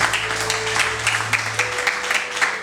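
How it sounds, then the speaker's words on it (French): A church congregation applauding and cheering to acclaim the Lord at a Full Gospel gathering in Togo, a steady wash of clapping with rhythmic accents, loud and close throughout. "Est-ce qu'on peut acclamer le nom du Seigneur?"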